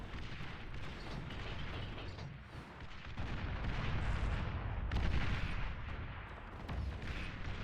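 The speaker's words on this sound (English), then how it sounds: "Still these bombers just firing away, eating up the energy production from the Poles." Bombers firing away in the strategy video game BAR, a dense, continuous barrage of booming explosions and gunfire that swells and rolls on without pause, with no voices over it.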